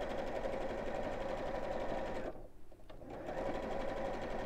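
A sewing machine stitching a felt Easter egg decoration, running as a steady close whir with a brief pause in the middle before it picks up again.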